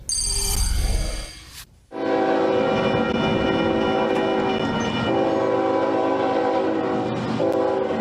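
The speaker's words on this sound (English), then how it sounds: "the train rolls through West Texas on the same tracks" A freight train rolls through West Texas, its horn sounding in long sustained tones over the steady rumble and clatter of passing rail cars, close and loud.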